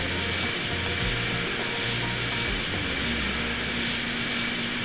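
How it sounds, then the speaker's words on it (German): Airliner in an airport simulator game drones steadily as it taxis toward the gate, a continuous loud engine roar with a sustained whine and no talk. "Jetzt müsste dieses Flugzeug hier rankommen."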